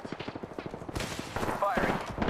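Gunfire in the Apex Legends battle royale game, a rapid burst of repeated shots in a quick rhythm at first, followed by louder mixed combat noise and impacts.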